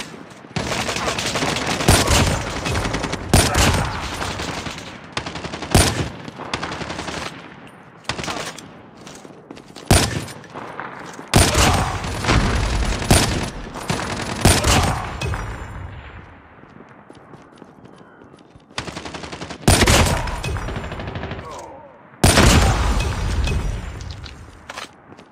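Call of Duty gunfire: loud, close bursts of rapid automatic shots and single cracks, repeated throughout with short gaps and a few heavier booms, dense and harsh.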